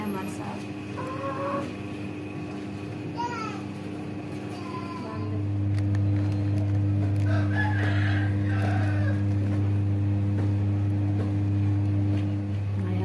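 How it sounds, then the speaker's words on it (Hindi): Chickens in a desert village yard, near a woman cooking outdoors, cluck and a rooster crows at moderate distance while a steady low engine-like hum joins partway through and continues underneath. "मुर्गी जो है ना हमारी मिर्ची खा रही है, ये देखें एंजॉय वगैरह कर रही है।"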